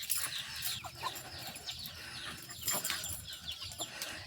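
A chicken chases young turkey poults at a home garden, clucking in repeated short, fairly close bursts with some wing flapping amid outdoor background noise.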